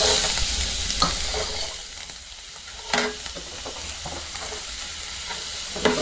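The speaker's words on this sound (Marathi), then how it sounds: "आणि कांदा घालून घेते याच्यामध्ये." Chopped onion fries in hot oil with crackling mustard seeds for a Konkan-style val and potato curry. A loud, steady hiss and sizzle carries on throughout, broken by occasional sharper pops and spoon knocks.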